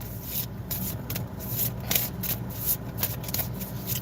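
Dollar Tree prayer cards being shuffled by hand, a close, dry riffling and rubbing of paper that repeats in quick uneven strokes.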